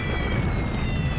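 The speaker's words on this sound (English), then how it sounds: "So we get some ship sinking sound clips playing here" Ship explosions and sinking effects from a WWII strategy game, as a continuous dense rumbling roar with crackling bursts that stays loud and steady throughout, overlaid with thin high whistling tones.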